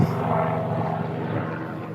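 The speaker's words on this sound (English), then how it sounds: "There's a helicopter." A helicopter, likely Border Patrol, flies overhead about 12 miles from the border in open country, its steady low rotor and engine drone holding at an even, fairly loud level without break.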